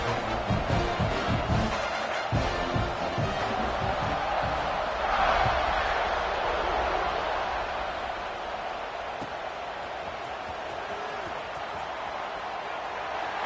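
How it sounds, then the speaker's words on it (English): College football stadium crowd roaring steadily through a kickoff at a Tulane game, a dense wash of cheering with a swell around the middle before settling into a sustained murmur. "this crowd is feeling themselves after that last drive"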